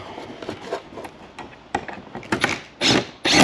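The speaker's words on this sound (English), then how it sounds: "Get yourself a spanner in there and you can ratchet it from the front" A spanner ratcheting a bolt on a front splitter fitted to a Ford Mondeo, a series of close irregular clicking and rasping strokes that grow louder toward the end, with no talking.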